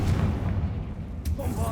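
Confringo fire-blast spell cast in the video game Hogwarts Legacy, a deep booming burst that rumbles for under two seconds with a brief sharp crack near the end.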